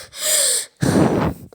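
A human voice imitates Vegeta's heavy breathing: one sharp airy inhale, a brief pause, then a rougher, louder exhale, both close and alone.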